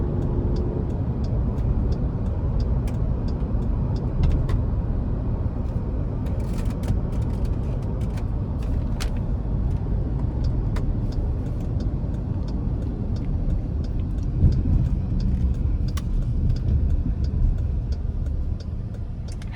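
A 2021 Jeep Grand Cherokee Altitude with a 3.6 V6, in sport mode, gives a steady low cabin drone under hard acceleration onto an interstate, with faint ticking clicks scattered throughout.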